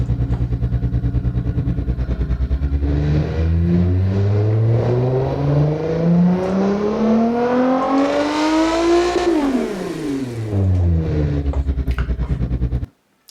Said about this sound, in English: I think the engine sounds are generated by the game, and they do a really nice job.